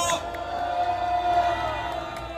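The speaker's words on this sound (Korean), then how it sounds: "큰 박수 부탁드리겠습니다" A crowd at a student rally on a university campus cheers and applauds steadily, a broad wash of sound that stays fairly even and distant.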